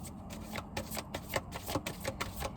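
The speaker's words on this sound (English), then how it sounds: "that's enough shuffling" Soft, rapid riffling of tarot cards being shuffled close by, a quick rhythmic patter of light flicks repeating steadily throughout.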